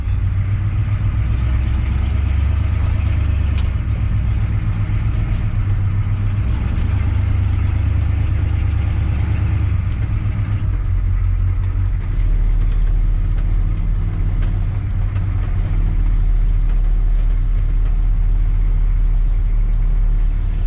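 A 6.2 truck engine runs steadily in four-wheel drive, a loud, constant low drone and rumble throughout with no pauses and no talking.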